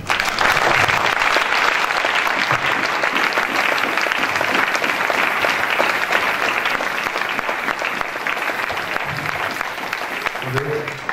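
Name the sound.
congregation applauding and cheering in church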